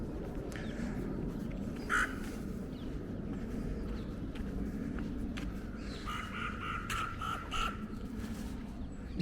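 Crows caw outdoors on a street walk in Rotherhithe, a few harsh calls scattered over steady background traffic rumble, moderately distant.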